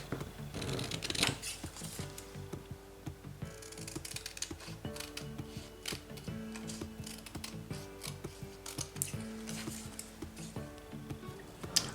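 Scissors cutting paper for a sewing pattern, a steady run of quiet snipping and blade clicks behind faint background music.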